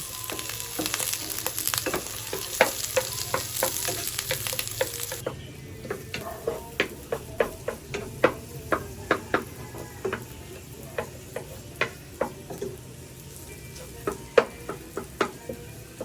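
Garlic and onion sautéing in a little oil for a home-cooked tinola-style dinner, a steady near sizzle dotted with sharp, evenly spaced spoon ticks against the pan, the hiss softening partway through; nobody speaks.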